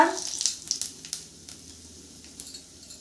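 Cumin seeds and a bay leaf hit hot oil with a sharp burst of crackling sizzle that quickly settles into a quieter, fading hiss with a few scattered pops.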